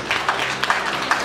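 A crowd at a wedding ceremony claps steadily, a dense patter of many hands with a few sharper bursts rising out of the continuous applause.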